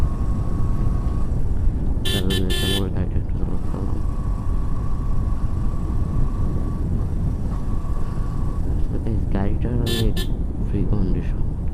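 A car runs steadily along a village road in Gopalganj with a constant engine and road rumble, and two short bursts of horn honking stand out loudly. A person talks over the drive.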